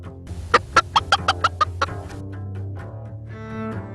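Chickens give a quick run of about eight sharp, loud clucks in rhythmic succession, then trail off into softer, drawn-out calls nearby.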